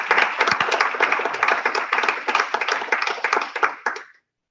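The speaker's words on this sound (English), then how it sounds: "we all need to give her a round of applause for this." Audience applause at a Salesforce developer group event, sharp individual claps blending into steady, fairly close clapping that stops abruptly after about four seconds.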